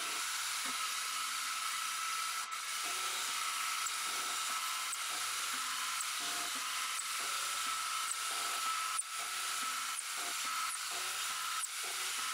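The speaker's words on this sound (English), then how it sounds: "Then it's a case of counterboring each hole so the bolt sits flat." A drill counterbores bolt holes in a 3D printed part, giving a steady, close, hissing whine that runs throughout with small dips and catches as the bit cuts.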